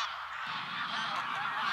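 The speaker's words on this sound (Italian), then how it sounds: "L'atterraggio delle oche nello specchio d'acqua prosegue per tutta la sera." A flock of geese honks continuously as the birds land on a pond in winter Maremma, Tuscany, a dense chorus of overlapping calls at moderate distance with no talk.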